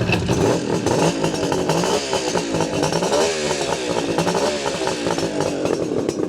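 A 1975 Suzuki GT550 motorcycle engine runs loud and close, with its rough, rattling two-stroke note revving and blipping continuously throughout.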